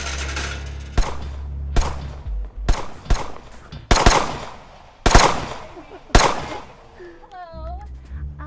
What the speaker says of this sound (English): I keep hearing gunshots